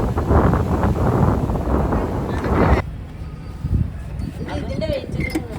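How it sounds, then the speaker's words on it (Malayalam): Strong wind on the Palani hilltop buffets the microphone in loud roaring gusts that ease partway through, while a person talks over it. "നല്ല കാറ്റ്, ഇവിടുത്തെ കാറ്റാണ് കാറ്റ്"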